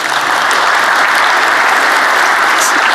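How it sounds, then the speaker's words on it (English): Dense, loud audience applause fills a keynote hall at a tech conference, an even unbroken wash of clapping from a large crowd with no voices over it. "Round of applause for that."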